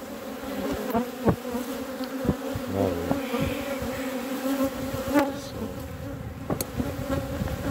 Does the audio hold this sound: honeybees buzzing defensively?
yes